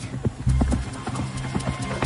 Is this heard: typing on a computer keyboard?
no